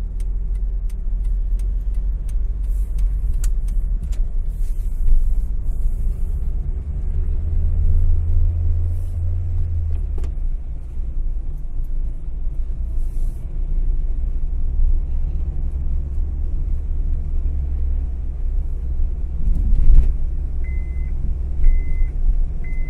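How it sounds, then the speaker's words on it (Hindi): A Honda City car engine idles steadily with a low, even rumble after a power steering torque sensor repair, close and continuous, with a few faint clicks and brief beeps near the end. "ये गाड़ी ओके चल रही है"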